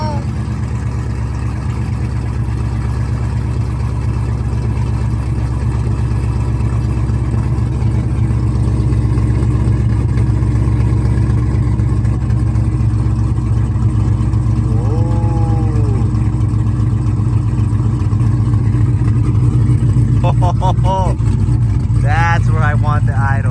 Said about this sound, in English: That's where I want the idle, baby. Right there. 750. Yes, I got it. Oh yeah, she's chopping low and slow,